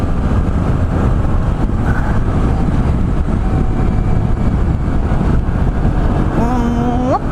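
A Honda DN-01 motorcycle in sport mode accelerates, its loud engine drone rising in pitch under heavy wind roar from the riding speed.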